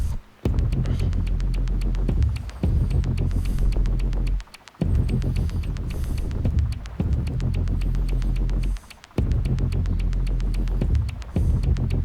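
A dark, throbbing industrial electronic track with heavy pulsing low end and droning layers, broken by brief drops into near silence.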